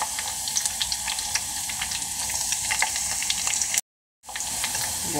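Garlic and curry leaves fry in oil for gongura pickle, a steady close sizzle and crackle with brief sharp pops, broken by a short silent gap near the end.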